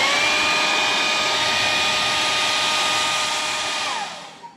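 A hair dryer blows steadily on a watercolor painting, a loud constant whoosh with a whining tone, then it switches off near the end and winds down.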